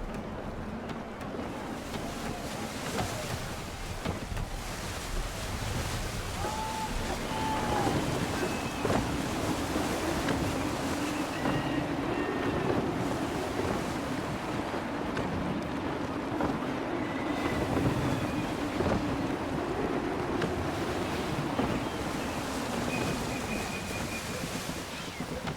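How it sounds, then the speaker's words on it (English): Gusty wind at sea in Assassin's Creed 3 sweeps steadily over rolling surf and a sailing ship's creaking hull, a broad continuous roar with swells rising and falling throughout. "Gusty winds can be difficult to manage."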